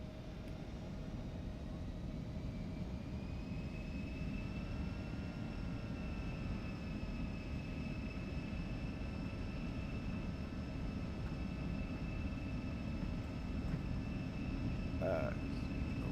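Engine noise from an Embraer E-175 jet in the X-Plane 12 flight simulator during its takeoff roll, a steady broad roar with faint whining tones that rise slightly over time, continuous and moderately quiet.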